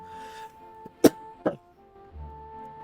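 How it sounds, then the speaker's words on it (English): A single sharp cough stands out near the middle of a short, quiet stretch, followed by a second weaker cough-like burst about half a second later, with faint background hum. "The cough is really just kind of what's been coming up since then."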